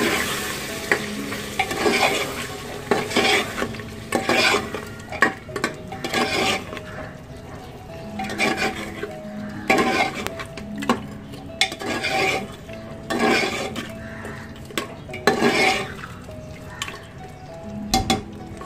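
Yogurt stirred into sizzling mutton masala for Hyderabadi mutton salan, a spoon scraping and clinking steadily against the pot over a continuous fry, close and without talk.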